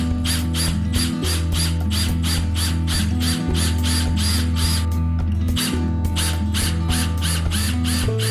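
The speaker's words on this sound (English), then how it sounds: "Something I think I'm going to do to help me get this plug out is drill some holes." A drill bores holes into a wooden plug lodged in an axe head's handle eye, a loud, steady motor drone with rapid, regular mechanical pulses and brief stalls.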